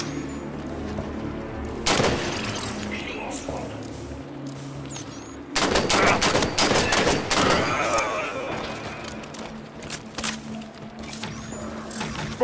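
Turrets fire in the video game Halo 5: Guardians, with a sharp blast followed by a loud, dense volley of rapid shots over a rumbling battle background, then fading to quieter scattered fire.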